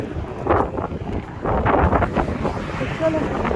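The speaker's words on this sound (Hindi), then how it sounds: "पत्तों की दौड़ें लगी हुई हैं हवा से।" Gusty outdoor wind sends leaves tumbling along, producing a loud, rough rumble that rises and falls in close bursts against the microphone.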